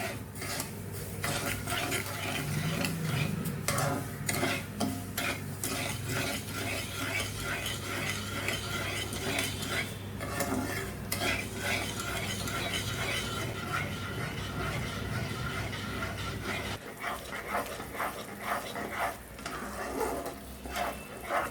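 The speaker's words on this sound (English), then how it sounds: "Let us stir this until the sugar melts." Sugar stirred in a pan with about a cup of water while making Mysore Pak, a Diwali sweet; a steady scraping and clinking of a spoon against the metal runs throughout over a low bubbling simmer, alone with no talk.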